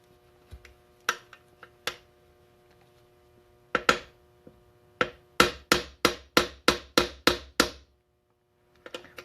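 Sharp metallic taps on a rotary trumpet valve to drive the stuck rotor out: a few scattered knocks, then a quick run of about nine evenly spaced, loud, close strikes.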